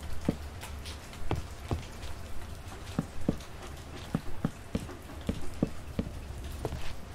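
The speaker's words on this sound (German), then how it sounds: "Immer dieser Regen." Rain in the video game The Way Home, a steady patter of drops landing on a surface with scattered sharper individual drips throughout, no voices.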